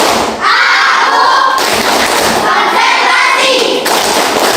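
A class of children in a school classroom claps a rhythmic tepuk pattern together, a loud, continuous burst of hand claps lasting several seconds, with voices chanting along.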